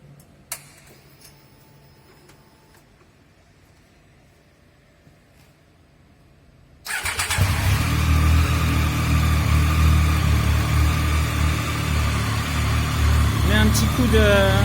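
Triumph Speed Triple motorcycle, a 2020 model, starts at about seven seconds: a quiet room gives way to a loud, steady, close engine idle that runs unbroken to the end.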